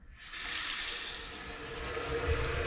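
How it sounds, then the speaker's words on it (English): Hot water runs steadily from a bathroom vanity tap, a soft continuous hiss and splash that starts abruptly and holds at a low, even level. "We'll run the hot water."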